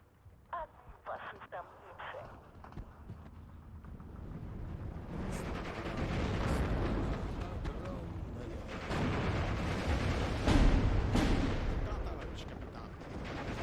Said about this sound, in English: Those mortar rounds are quite far off.